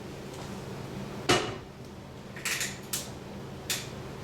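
Pot of apples in water being set onto a stove, one sharp metallic clunk followed by a few lighter knocks and clicks nearby in a quiet kitchen.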